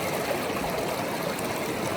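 A stream flows at a water collection spot on the Pacific Crest Trail in Northern California, a steady, close rushing and trickling of water with no pauses and no voices.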